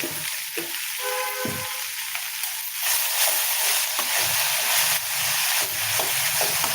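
Spinach (lachakottai keerai) being stirred with a little salt in a pan, a steady close sizzle and hiss of cooking with scraping stirring strokes throughout.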